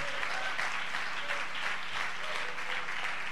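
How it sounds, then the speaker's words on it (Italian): Congregation applause during an Italian church service, a continuous, even wash of many people clapping at moderate distance with a low hum underneath and no talking. "facciamo un applauso"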